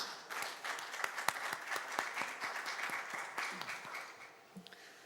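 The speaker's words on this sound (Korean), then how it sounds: "큰 박수 부탁드리겠습니다" Conference audience at a Korean business administration academic session welcomes a speaker with dense, continuous applause, fairly distant and even, tapering off near the end.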